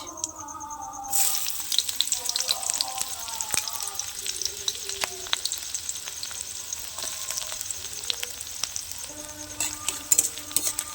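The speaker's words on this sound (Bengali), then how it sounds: "তেল গরম হয়ে গেছে সর্ষের তেলে করছি এবার দেবো একটু গোটা জিরে" Whole cumin seeds sizzle in hot mustard oil, a steady close crackling hiss starting after a second and continuing throughout, with faint clinks and stirring in the background.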